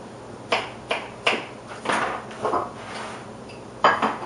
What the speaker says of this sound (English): I'm just going to cut it up in little small pieces